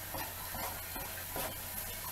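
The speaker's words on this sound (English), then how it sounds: "Then I would let this stir fry just about a minute or so until everything wilts down." Vegetable and tofu stir fry with Asian watercress and tender bok choy sizzles in a hot pan, a quiet, continuous frying hiss with soft stirring rustles and no voices.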